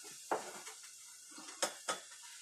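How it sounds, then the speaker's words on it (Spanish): A frying pan is lifted and moved off a stove, with a few light metallic clanks and scrapes, two sharper knocks near the end, close but quiet against a faint background hiss. "Voy a quitar el sartén para mientras"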